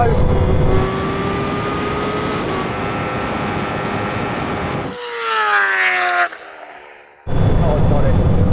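A Ducati Panigale SP2 superbike launching in a drag race against a Bugatti Chiron and a Kawasaki H2R, a loud high engine note rising through the gears, then a sharp surge and a brief drop before the roar returns.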